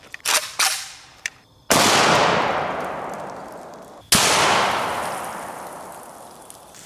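An AK-47 rifle fires 7.62x39 soft-tip rounds at a 380-pound atlas stone outdoors: two very loud, sharp shots each trailing off in a long rolling echo, preceded by a few lighter clacks and knocks.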